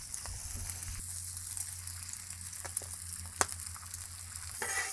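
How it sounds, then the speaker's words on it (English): Bacon and other food sizzling on a Blackstone griddle, a steady close frying hiss with scattered crackles and pops, one sharper snap partway through, and no talking. "Just gonna look at our bacon, flip that."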